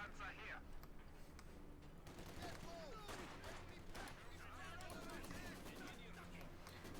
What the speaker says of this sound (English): Maxim firing away there at the Pioneers